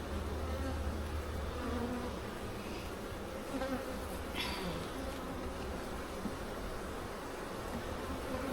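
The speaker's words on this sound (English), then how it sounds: "Definitely see some young bees" Honey bees in a nuc hive with a young queen and emerging brood fill the air with a dense, steady close-up buzzing that never lets up.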